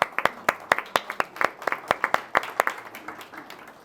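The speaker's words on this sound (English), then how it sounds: "Round of applause." A small crowd at a Virginia Senate District 35 Democratic primary debate claps in a sparse, uneven round of applause, a few distinct hands beating at a brisk rhythm that thins out toward the end.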